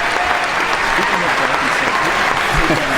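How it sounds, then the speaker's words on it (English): A canned applause sound effect plays for a guest on a movie press show, a steady, dense roar of clapping crowd noise that stays loud and unbroken from start to finish. "The applause in my headphones is deafening."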